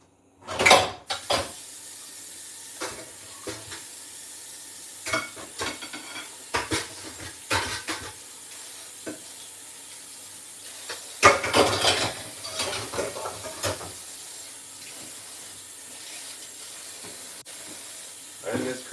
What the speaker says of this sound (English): I'm just washing some dishes.